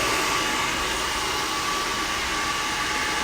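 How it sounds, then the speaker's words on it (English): A hair dryer blows steadily at close range, a constant airy roar with a faint high whine, with no voices. "Follow the brush with your dryer."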